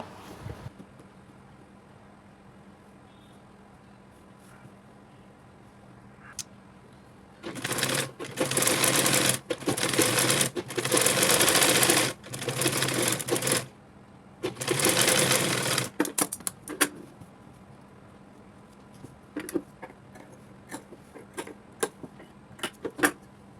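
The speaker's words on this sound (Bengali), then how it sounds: "পিন দিয়ে আটকে এরপর কিন্তু সেলাই করে নেব" A sewing machine stitches blouse neck fabric in two close, loud runs of rapid whirring, a long one and then a shorter one. Scattered clicks and handling noises fill the quiet stretches around them.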